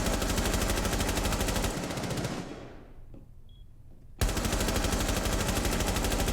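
Gunfire in Rainbow Six Siege, rapid automatic bursts at an even fast rate, loud and close, cut by a short near-silent gap before a second burst resumes abruptly.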